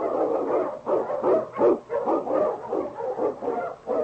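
A sled dog, an Eskimo lead dog in an old-time radio drama, barks and whimpers in a steady run of loud, close yelps and bow-wows, alone with no talk.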